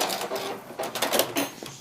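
Sewing machine running a brief back stitch on quilt binding, a close, busy mechanical whir with quick rhythmic needle clatter and small stops and starts over under two seconds.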